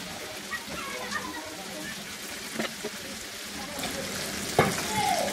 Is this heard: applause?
no